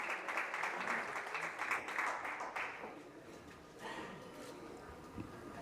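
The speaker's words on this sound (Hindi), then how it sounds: "एक बार जोरदार तालियां हो जाए for Mr." Audience applause for the main sponsor at a CREDAI Raigad property expo press conference: scattered clapping fills the first half, then thins and fades to quiet room noise with light taps.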